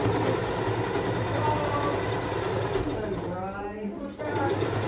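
A sewing machine stitches a ribbon skirt with a steady, close mechanical whirr that runs almost without a break while a person talks over it.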